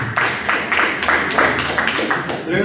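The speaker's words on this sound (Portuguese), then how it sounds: "Ele pode bater palmas para Jesus." A church congregation at a Pentecostal service claps in a steady rhythm, with about ten loud even claps over a low background hum.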